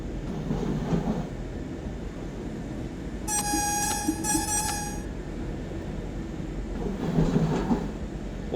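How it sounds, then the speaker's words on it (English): Diesel train hauling an N-Wagen cab car in Train Sim Germany on the Hamburg to Lübeck line, a constant rumbling run with rail clatter, broken by a loud two-part horn blast midway. "Oh, I do like the sounds on the N-Wagen cab car."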